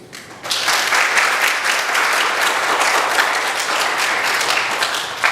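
A congregation in a Korean church breaks into loud, dense applause after a short quiet moment and keeps clapping steadily for about five seconds, close and full.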